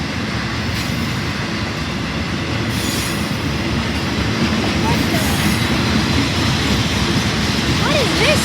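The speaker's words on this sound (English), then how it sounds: "What the heck is this train?" A freight train passes close by with a continuous loud rumble, rhythmic wheel clatter and brief squealing wheels toward the end.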